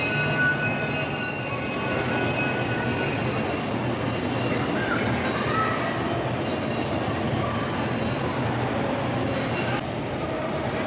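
Kids' ride train rolling through a shopping mall in Cebu, a continuous rumbling clatter with faint squeals and mall crowd noise behind it.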